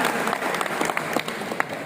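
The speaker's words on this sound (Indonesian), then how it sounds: "Beri tepuk tangan sekali lagi untuk narasumber kita." Teachers at a physical education workshop in Bandung applaud a presenter, a crowd's scattered clapping with a few sharp individual claps, moderately loud, steady throughout and then tapering slightly.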